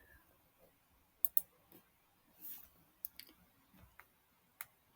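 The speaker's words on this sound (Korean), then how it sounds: "그러면 F4키를 먼저 누르겠습니다." Faint, sparse clicks of computer keyboard keys being pressed, including F4, a few single taps and quick pairs spread across a quiet background.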